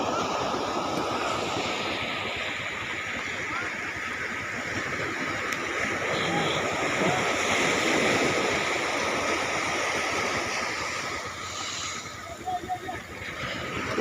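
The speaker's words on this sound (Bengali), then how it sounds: "ঢেউ একদম পায়ের কাছে চলে এসছে" Sea waves washing up onto the shore at Ganga Sagar, where fishing trawlers land their catch; a continuous, moderately loud surf wash that swells midway, with people talking faintly nearby.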